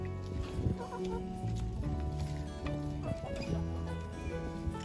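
Backyard hens in nest boxes give soft, steady clucks and murmurs, layered with tonal background sound and occasional faint knocks.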